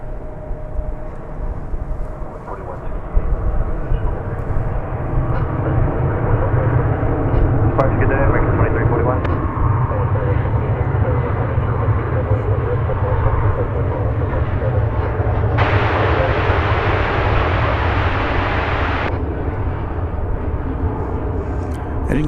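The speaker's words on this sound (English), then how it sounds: "I didn't catch where this plane is going out to." An airplane departs at DFW Airport, its engine roar building to a loud, sustained rumble that holds steady for a long stretch, with a brief brighter hiss partway through.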